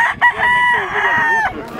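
A show rooster at a poultry show in Hilmar, California crows one loud, drawn-out call from close by, its harmonic tone sustained for over a second with a short cluck just before.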